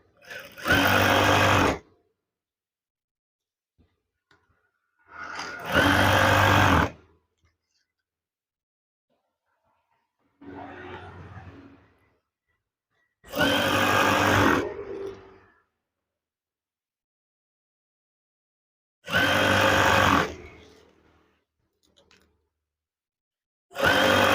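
A sewing machine stitches curtain fabric in five loud, close bursts of rapid whirring, separated by quiet pauses, with one softer burst of handling noise partway through.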